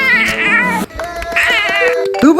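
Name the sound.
voice imitating a cat meowing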